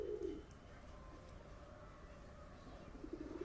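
Pigeons coo softly in a loft, low murmuring calls at the start and again near the end over a quiet background hum.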